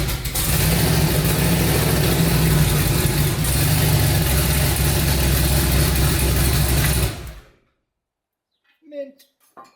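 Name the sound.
twin turbo 5.3 engine starting and idling in Mustang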